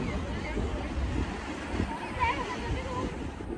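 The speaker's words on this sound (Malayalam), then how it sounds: "വലിയ വലിയ തിരമാലകള്." Big ocean waves at Kozhikode beach make a constant broad wash of surf, mixed with gusty wind buffeting against the microphone.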